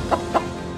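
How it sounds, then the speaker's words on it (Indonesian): Two quick, soft clucks from a bird over a dense background hum. "Itu burung."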